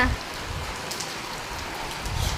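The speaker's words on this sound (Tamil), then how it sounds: "விடாமல் மழை பெய்யுது" Heavy, unbroken rain falls steadily in a late-November downpour, a dense near hiss of drops on surfaces with low rumbling beneath and no voices.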